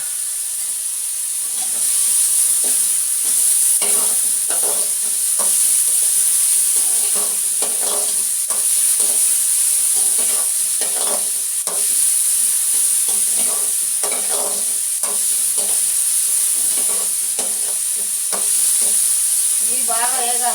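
Coriander and cumin seeds fry in a pan with a loud, steady sizzle and crackle, the spattering hiss rising and falling in bursts throughout, with no talking.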